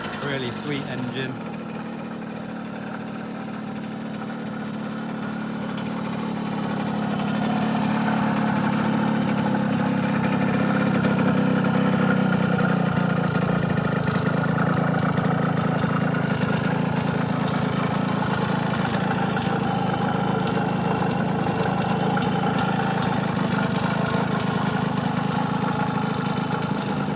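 A 1974 Yamaha FS1-E moped's two-stroke engine idles close by with a steady buzzing drone that swells slightly and holds for a long stretch.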